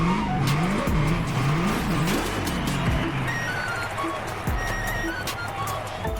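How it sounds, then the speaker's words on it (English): A drag racing run in The Crew Motorfest, with a loud engine revving and rising repeatedly through quick gear changes while tires squeal, all steady and close throughout. "Drag racing time."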